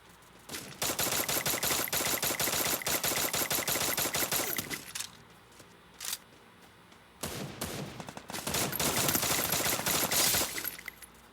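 Rapid bursts of automatic gunfire in the Free Fire battle game while aiming for headshots, loud and dense for several seconds, breaking off into a brief pause with a single shot, then resuming in long sustained volleys.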